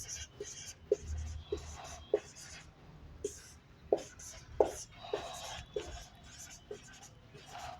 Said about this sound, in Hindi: चलिए एक सवाल और लिखते हैं।